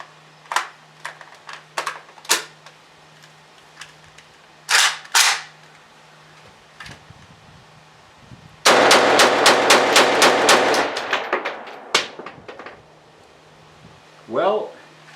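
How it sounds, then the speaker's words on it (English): AK-47 rifle in 7.62 caliber fired in semi-automatic at an outdoor range: a burst of rapid, evenly spaced loud sharp cracks follows several scattered single shots, with faint talk heard in between. "Let's see how it goes with the AK."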